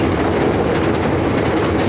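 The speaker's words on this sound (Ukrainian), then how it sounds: "Метро." Metro train rolling past in a Korean city, a loud continuous rumble with steady rail clatter filling the whole stretch, close by and with no voices over it.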